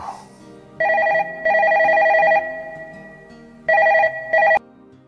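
A telephone rings in loud, close bursts, two long trills, a pause, then two shorter ones, in a quiet indoor movie scene with no one talking.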